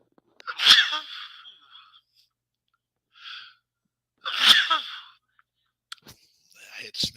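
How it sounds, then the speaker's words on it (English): Two sharp, close sneezes break a quiet room, with faint breathy sounds between and a few clicks afterward. "I gotta sneeze."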